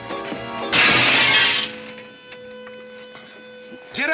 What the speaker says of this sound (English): You busted Lily's looking glass